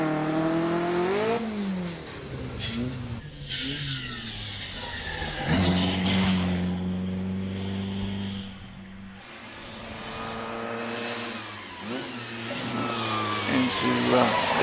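A hillclimb race car pulls away at Prescott, its engine revving hard through rising and falling gear changes, loud and close at first before fading slightly, with a commentator talking over it throughout.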